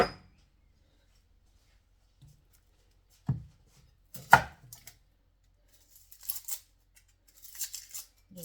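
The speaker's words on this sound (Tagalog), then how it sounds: "maghihiwa muna tayo ng sibuyas bombay" An onion is cut with a knife on a board in a quiet kitchen, a few isolated soft chopping knocks spaced apart, followed by short clusters of lighter cuts.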